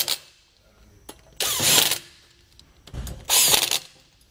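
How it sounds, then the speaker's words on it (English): Lug nuts being tightened back down onto wheel studs during a Kodiak disc brake kit install on a 2019 Keystone Montana fifth wheel trailer: two long bursts of a power tool whirring close up, separated by brief clicks and quiet pauses. "We'll then just tighten them back down."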